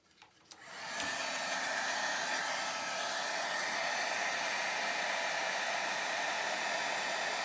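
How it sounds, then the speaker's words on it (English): An embossing heat tool switches on with a click and then blows a steady, loud whooshing roar close by while heat setting embossing powder on a handmade watercolor card. "Now we're going to heat set that again."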